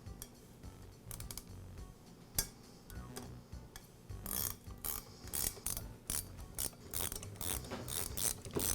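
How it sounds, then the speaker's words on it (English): Two wrenches tighten the nuts holding a new cutter blade on an Echo hedge trimmer, producing close, irregular metallic clicks, ratcheting ticks and clanks, denser in the latter half. "And I'll use 2 wrenches to tighten up the nuts."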